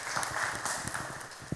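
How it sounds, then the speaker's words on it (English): A church audience applauds a speaker, a steady wash of clapping at moderate level with no voices over it, brief and continuous throughout. "Give him a round of applause."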